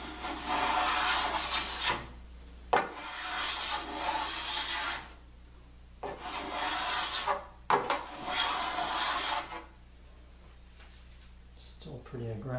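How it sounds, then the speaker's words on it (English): A sharp hand plane blade shaves through a piece of wood in several long rasping strokes separated by pauses, close and crisp, with a voice speaking in the background. "There's nothing sweeter sounding when woodworking, I think, than a sharp blade going through a piece of wood."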